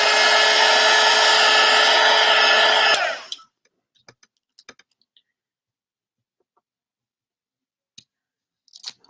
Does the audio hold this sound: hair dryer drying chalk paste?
yes